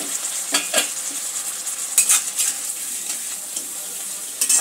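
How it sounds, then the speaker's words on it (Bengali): Masala being stirred in a pan with a splash of chicken stock, a steady sizzle with intermittent spoon scrapes and stirring strokes, close and moderately loud, no voices. "সামান্য একটু চিকেন স্টক দিয়ে দিচ্ছি মশলাটা কষে নেওয়ার জন্য।"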